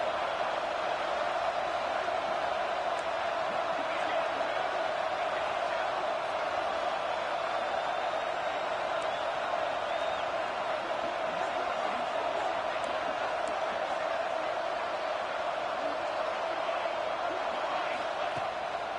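Steady roar of a packed college football stadium crowd ahead of a big third down, a dense continuous wash of voices under a commentator.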